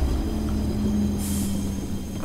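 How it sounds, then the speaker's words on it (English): A train in the video game Choo Choo Charles gives a steady low mechanical rumble with a droning hum as it comes to a stop, and a brief airy hiss breaks through midway. "Stop the train!"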